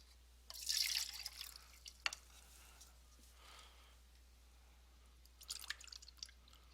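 Liquid is poured from a cone into a cylinder of the same dimensions during a geometry volume demonstration, heard as faint, brief trickles and splashes in two short bursts against a quiet background.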